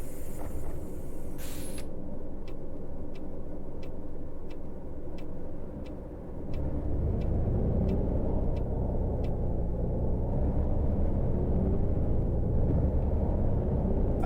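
A tourist bus in the Tourist Bus Simulator video game drives along with a steady, close, low engine rumble, while a regular light ticking clicks over it throughout.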